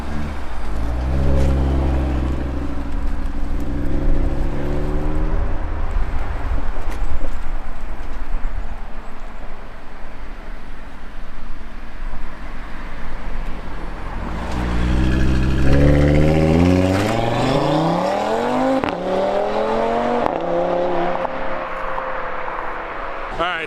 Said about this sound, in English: I should stop and do a launch right in the middle.